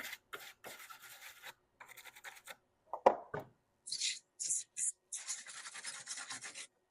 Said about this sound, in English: You can take a wire brush or a razor blade and use that in order to clean up the ends.